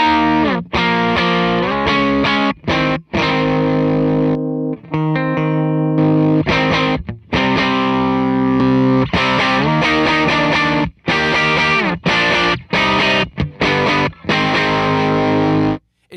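Electric guitar played through a SoloDallas SVDS Boost pedal, internal pot maxed and top knob set low, giving a loud, saturated, distorted tone with sustained chords and short pauses between phrases.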